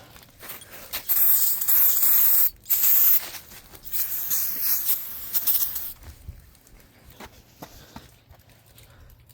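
Brake cleaner sprayed from an aerosol can onto a car brake rotor outdoors in snow on an Impala, two loud sustained hissing bursts followed by shorter fainter sprays and handling noises.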